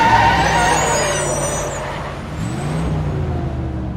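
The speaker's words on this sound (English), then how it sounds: "Suddenly, the bus stops with a loud screech." A bus slows with a vehicle roar and a brief high hiss near the start, then settles into a steady idling rumble nearby.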